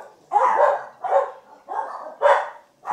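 Protective dogs bark close by, four loud separate barks in a quick uneven sequence with no talking between them.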